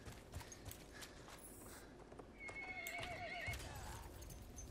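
Horse neighing and clip-clopping hooves in the video game Battlefield 1, a faint whinny over hoof steps, quiet and somewhat distant.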